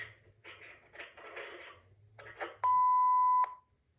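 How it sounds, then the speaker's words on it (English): Someone speaks quietly, then a single loud, sharp answering machine beep from an AT&T E5812B cuts in and holds steady for nearly a second before stopping abruptly. "just like the E6014B, has a painfully loud beep"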